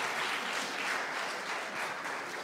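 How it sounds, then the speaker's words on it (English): Audience applauding Oxford Community Church at a regional church celebration, a steady wash of many hands clapping, fairly distant and soft, continuous for a couple of seconds. "give them a round of applause"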